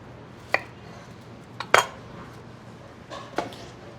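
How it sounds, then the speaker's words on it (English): A kitchen knife chops through a shallot on a cutting board while making pasta puttanesca: three separate sharp clicks and knocks, near and fairly soft, with quiet room tone between them. "Here is the shallot. Cut the ends off."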